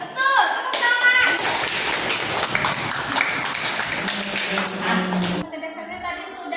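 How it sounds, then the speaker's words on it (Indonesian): Clapping in a school classroom, a burst of hand claps from a group of pupils that carries on for about five seconds, with children's voices mixed in, then fading out. "Tepuk tangan."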